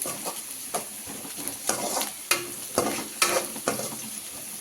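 Vegetables for paneer fried rice are stir-fried in a pan, loud rhythmic scrapes and tossing bursts repeating every half second or so over a steady frying sizzle.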